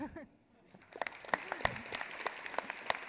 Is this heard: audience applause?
yes